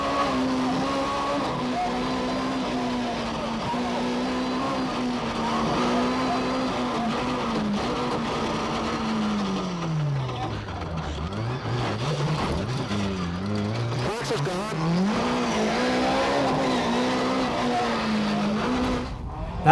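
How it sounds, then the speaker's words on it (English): BMW M3 rally car racing flat out on a rally stage at the 1996 Donegal International Rally, its engine note rising and falling steadily through gear changes with tire noise, loud and close throughout. "Hugh Martin Doherty in the BMW M3 is literally flying."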